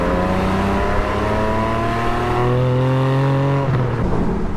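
Porsche 718 Spyder exhaust running steadily and subdued, a smooth droning engine note with gently rising and shifting pitch, close and continuous throughout with no voices.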